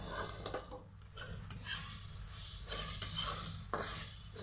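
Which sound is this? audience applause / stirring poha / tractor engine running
stirring poha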